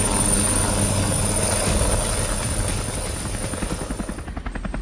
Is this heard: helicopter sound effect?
yes